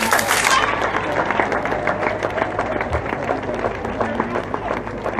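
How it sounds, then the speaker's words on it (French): An audience gives a burst of applause for a football team at a sports association event. The clapping starts loud and dense, then settles into steady, scattered claps and crowd murmur. "méritent vraiment vos applaudissements"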